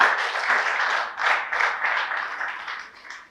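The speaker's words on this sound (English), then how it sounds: "I think we should clap for ourselves." Graduates and guests at a youth upskilling training event clap for themselves, a full bright round of applause that swells and dips in waves, then tapers off toward the end.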